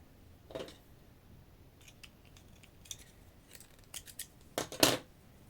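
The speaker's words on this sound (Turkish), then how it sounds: "bu şekilde ipimi kesiyorum" Scissors snip through yarn during crochet work: a few short, crisp cuts, quiet and close, with a final cluster of snips near the end and no talk.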